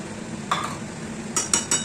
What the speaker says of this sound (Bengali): দিয়ে ভালো করে একটু কষিয়ে নেবো আমি